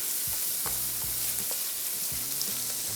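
Chicken frying in a pan, a steady close sizzle with light scraping and clattering stirring strokes throughout.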